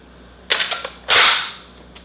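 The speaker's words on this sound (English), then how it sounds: "First he cocks the weapon" An AGS-17 Plamya 30mm automatic grenade launcher being cocked by hand: a few quick metallic clicks and clacks, then one longer, louder sliding rasp of the action, close up and with no talk.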